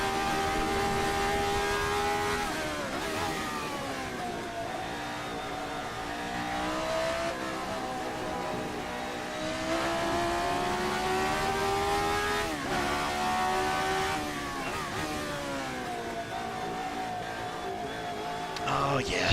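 A RSS Formula 79 race car engine in a racing video game screams at high revs, rising through gears with brief drops at each shift, loud and continuous throughout with sustained harsh harmonic whine.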